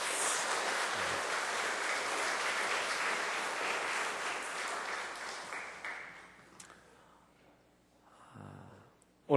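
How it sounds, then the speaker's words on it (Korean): Church congregation at a Sunday service applauds to congratulate newly baptised members, a steady, full round of clapping that fades after about six seconds into quieter room noise. "다시 한번 큰 박수로 축하해 주십시오"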